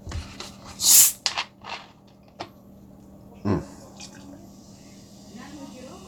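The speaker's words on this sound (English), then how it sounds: "Pour myself a drink here." A drink is poured into a glass, a short burst of splashing liquid followed by a few smaller drips and clinks nearby, then quiet room sound.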